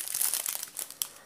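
A plastic bag holding jewelry-making beads crinkles and rustles in quick, close, uneven bursts as it is handled, with no voices over it.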